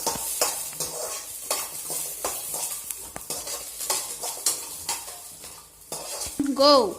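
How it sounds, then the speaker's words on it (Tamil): Ginger, garlic and onions sauté in a pan with a steady sizzle, broken by repeated scraping and stirring strokes of a utensil and the occasional clink of metal against the pan. "இந்த பூண்டையும் சேர்த்துட்டு நல்லா இதை வதக்கிடுங்க."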